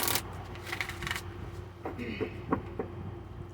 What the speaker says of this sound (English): Just gonna keep shuffling them till they feel good.